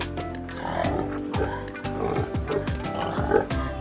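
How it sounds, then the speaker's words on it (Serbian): A warthog grunts in a rapid series of short, rough, low grunts and snorts, loud and close with no talk. "bradavičasta svinja"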